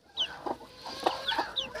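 A broody hen helping ducklings hatch clucks in short repeated bursts close by, with several soft calls spread across the moment and light farmyard background.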